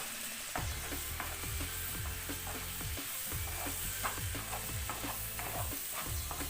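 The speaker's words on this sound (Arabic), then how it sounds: "هنا غادي نشحر فيه هاد الكروفيت" Shrimp sizzling steadily in a hot pan while being sautéed, with frequent scraping stirs of a utensil against the pan creating a rhythmic clatter over the constant frying hiss.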